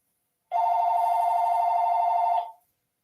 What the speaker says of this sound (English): Excuse the phone. I'm going to wait till it stops ringing.